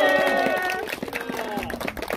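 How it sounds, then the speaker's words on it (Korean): Audience members clap at the closing of a fishing tournament event: a short burst of scattered, moderately near applause follows a brief voice. "큰 박수 한번 부탁드립니다"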